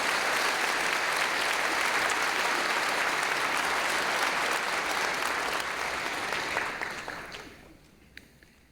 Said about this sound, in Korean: 우리 갈릴리 성가대와 우리 오케스트라 여러분 크게 박수로